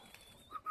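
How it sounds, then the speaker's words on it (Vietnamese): Large hand-raised pigeons in a bird shop give a soft, brief cooing call at close range, faint and short against a quiet background with a thin whistling tone. "Những chú chim này nuôi non từ nhỏ."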